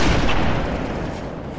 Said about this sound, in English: Literally popping heads right now with a BR.